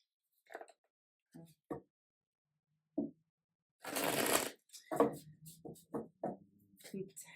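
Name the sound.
shuffling tarot cards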